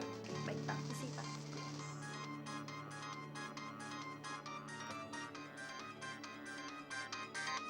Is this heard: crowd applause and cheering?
no